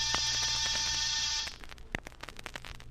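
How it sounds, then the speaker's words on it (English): An apartment door buzzer in an old radio drama rings as a loud steady electric buzz for about a second and a half, then cuts off into quiet room noise. "I rang one buzzer."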